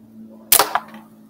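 A single quick snap from a Webley Mark 1 air pistol launching a dart, a sharp close pop followed by a brief secondary thud, over a faint steady hum.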